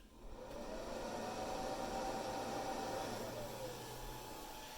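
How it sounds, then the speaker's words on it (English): A hair dryer on its low setting, powered from a Panasonic 36V scooter battery pack, runs steadily as a constant whooshing hiss with a faint motor whine, close and even throughout, with no talking. "Hairdryer back on low."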